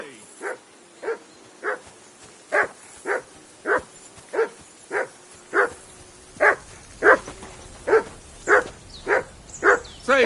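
Mutt the dog barks in Kingdom Come: Deliverance II, about seventeen sharp, evenly spaced barks in a steady rhythm, close and loud, with no talking.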